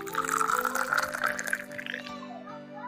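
Water runs into a cup at a sink in a video game, a steady trickling pour whose pitch rises as the cup fills, then tapers off, with no talk over it.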